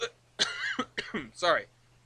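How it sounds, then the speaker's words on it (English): Several short, harsh coughs bursting close into a microphone, spaced in an uneven run over about a second, over a low steady hum. "Sorry for coughing directly into the microphone."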